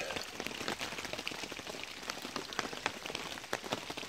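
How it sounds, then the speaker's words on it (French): Steady rain patters onto a camp tarp in the woods on a wet Monday morning, a dense continuous hiss of drops with sharper close taps scattered through it, no voices. "jour de pluie."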